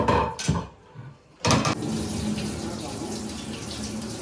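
Water runs from a tap into a pot for mutton biryani, a steady rushing fill after a couple of short bursts and clunks at the start.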